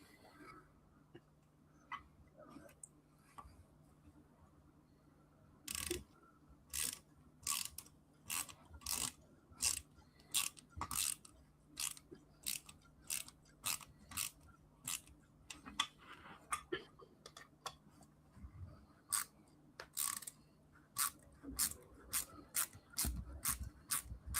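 A small screw being driven into a hinge on a Lamborghini Aventador LP 700-4 scale model kit, giving a steady run of sharp, close ratcheting clicks in quick regular bursts, with quiet low hum underneath.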